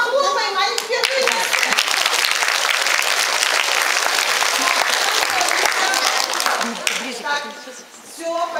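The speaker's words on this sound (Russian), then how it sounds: "Давайте похлопаем, они впервые." An audience applauds children at a Children's Day event in the Ingush youth theatre. Dense, loud clapping fills the room, with children's voices and talk mixed in.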